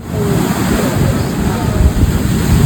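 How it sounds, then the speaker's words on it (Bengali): Sea waves wash up on the beach at Digha in a loud, continuous low roar of surf, with wind buffeting the microphone throughout. "কতদূর পর্যন্ত জল চলে আসছে"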